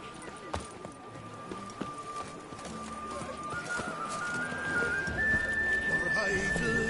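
The horse Roach gallops in The Witcher 3, with rapid rhythmic hoofbeats under a rising whistle-like tone, fairly faint, while a voice speaks over it.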